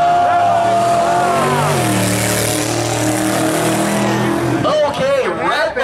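Drag race cars, one turbocharged, launch down the strip at a drag race event, with engine roar rising and sweeping in pitch under a track announcer's continuous commentary.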